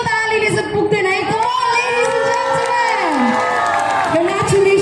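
A crowd at a song promo event cheers and shouts loudly and up close, with whooping voices rising over a steady roar for the whole stretch; any clapping is buried under the voices.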